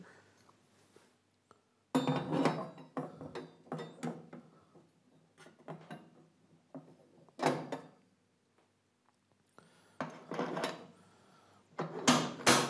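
Plastic and metal parts of a pasta machine, a press shaft and kneading hook, being slotted and clicked into place in a bright clatter of knocks and clinks, close by in a quiet workshop, with no talk.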